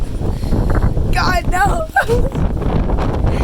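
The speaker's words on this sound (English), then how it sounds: "Oh, it's so windy out here." Strong wind buffets the microphone outdoors during a sharp cold snap, a loud continuous roar throughout, with a person exclaiming briefly over it.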